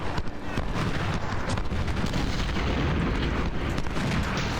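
Artillery fire in the Ultimate General: Civil War game's Battle of Fredericksburg, a dense, sustained rumble of cannon booms and gunfire rolling together without pause.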